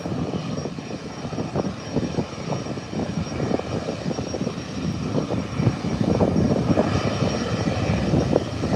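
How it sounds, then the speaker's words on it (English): An airplane takes off from Howard Hamilton International Airport, its engine roar steady and loud throughout, swelling slightly as the aircraft climbs away. "And the nose wheel is up. And it's away. Smooth takeoff."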